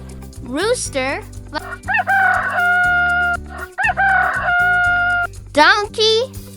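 A rooster crows loudly near the start and again near the end, a rising cock-a-doodle-doo over bouncy children's background music with sung notes between.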